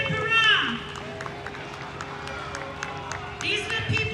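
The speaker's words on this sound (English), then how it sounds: "Give a round of applause." Crowd at the Syttende Mai Norwegian Day Parade in New York clapping and cheering for the Sons of Norway marshal, a steady outdoor patter of applause with shouts and voices rising near the start and again toward the end.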